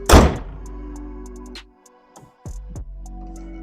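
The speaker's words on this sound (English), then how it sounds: "Now let's close our hood." The hood of a 2005 Subaru Baja Turbo slammed shut, a single loud close thunk followed by a brief metallic ring, a quiet gap and a few softer handling clunks.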